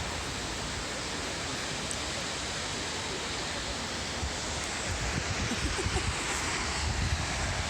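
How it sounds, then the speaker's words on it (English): Large waterfall near Mount Nantai in Japan, a loud, steady broadband roar of falling water heard up close, continuous throughout with no voices over it. "It's not a tiny waterfall though, is it?"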